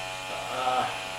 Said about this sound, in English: You get your shaver. You're going to want to put it on the highest setting.